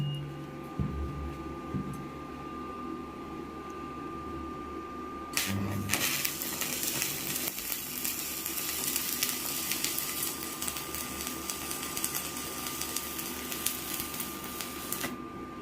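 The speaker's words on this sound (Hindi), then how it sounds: "तो चलिए अब हम लोग सीधा वाला वेल्डिंग कर लेते हैं" Arc welding lays a straight bead with a loud, steady, crackling buzz that starts after several seconds of quieter workshop sound and carries on to the end.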